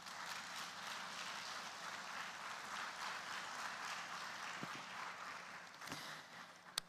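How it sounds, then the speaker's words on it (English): A conference audience applauds a speaker at a tech conference in Africa, a steady, moderately faint wash of clapping lasting several seconds, with a few louder isolated claps near the end. "A warm round of applause for Mr. Kashifu Inuwa Abdullahi."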